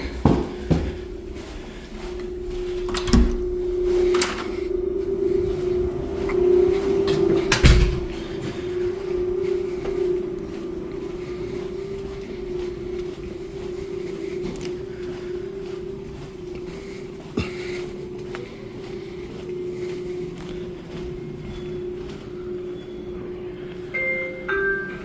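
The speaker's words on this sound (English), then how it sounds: "Alright, let's go back down the elevator now." Descent in a Schindler 3300 machine-room-less traction elevator at a medical pavilion in Orlando, Florida, with a steady low motor hum and ride rumble through the car, broken by a few sharp clunks and thumps near the start.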